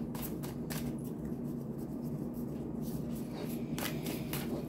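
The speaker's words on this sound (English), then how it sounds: "I'm having such a hard time shuffling once again." A tarot card deck being shuffled with some difficulty: soft papery riffling bursts near the start and again toward the end, close and quiet, with no one speaking.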